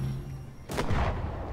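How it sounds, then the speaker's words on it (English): Grenade launcher firing in the video game Fortnite, a single sharp loud blast with a rumbling tail. "can you shoot it with a grenade launcher?"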